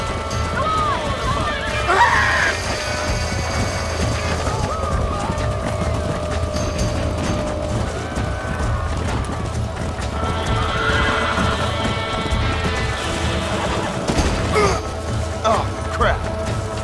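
Horses galloping and neighing in Red Dead Redemption, dense clip-clopping hooves with repeated whinnies over a continuous busy game soundscape, with voices calling out during the chase.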